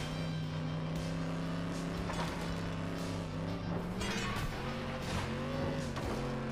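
Car engine in the racing game FlatOut 2, revving and shifting steadily through the whole stretch with rising and falling pitch, loud and close, joined by scraping and thumping from debris near the end, with no talk over it.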